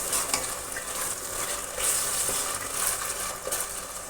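Roughly chopped tomatoes fry in a pan for aloo tori, sizzling steadily up close while a spoon scrapes and stirs them.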